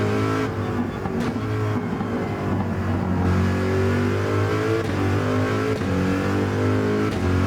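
A Corvette-style race car accelerates hard through its early gears in Gran Turismo 7, the engine note climbing steeply in pitch, dropping briefly at each quick upshift, then rising again, loud and close with no talk.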